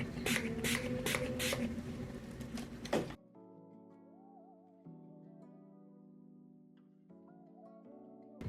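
A few short bursts of makeup setting spray hiss up close onto a face, followed by quiet with a soft background tone.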